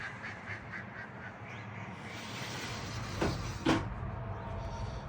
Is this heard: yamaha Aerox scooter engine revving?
no